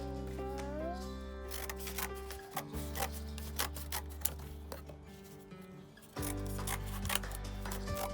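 Repeated crisp snipping of scissors cutting through a paper sheet, close by, over a steady low hum with faint background voices.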